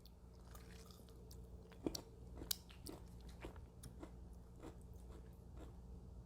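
Someone chews a crunchy pickle, a steady run of short moist crunching bites close up, with a couple of sharper snaps early on and no talking.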